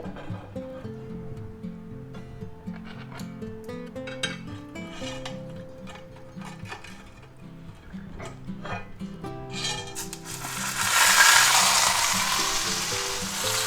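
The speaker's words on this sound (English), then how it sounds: "we're going to go ahead and sear that on both sides and the edges" Chuck steak sears in a smoking-hot oiled pan, the sizzle rising to a loud, broad hiss as the meat lands near the end, over steady background music.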